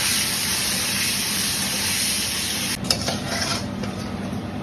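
Fish lightly frying in hot oil gives a steady, dense sizzle that runs on its own, with a few sharper crackles and spits near the end.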